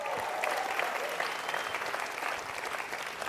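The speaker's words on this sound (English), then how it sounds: "we can make a more robust applause for those donations" Steady applause from an outdoor crowd at an opera gala fundraiser, many hands clapping evenly at a moderate distance, fairly quiet and sustained throughout.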